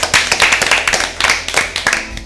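Audience at an Easter Bible quiz clapping for a team, close, loud and fairly rhythmic hand claps by a smallish group, continuous for a couple of seconds.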